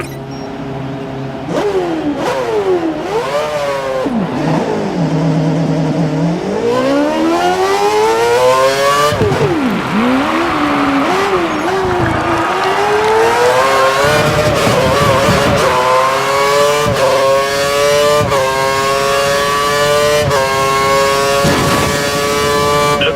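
A race car in F1 2013 during a Red Bull Racing young driver test screams out of a hairpin past 297 kph. The loud, close engine whine climbs repeatedly in pitch through gear changes, then holds a sustained high note down the straight.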